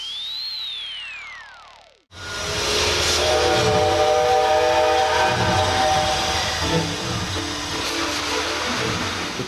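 A descending whistle sweep, then a train's loud, steady rumble and clatter, with metallic ringing tones, close by and continuous.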